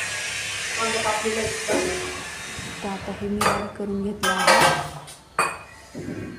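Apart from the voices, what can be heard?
electric mixer grinder grinding peanuts and green chillies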